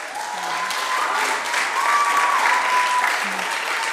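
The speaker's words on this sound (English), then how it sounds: "we ask that you hold your applause till after everybody who's on the table to speak speaks" An audience at a round table discussion breaks into steady applause, many hands clapping at moderate distance with faint tonal sounds over the crowd.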